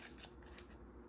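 Paper being snipped with scissors along cut lines for a woven heart basket, a quiet, steady close-up cutting sound with faint rasps, no voices.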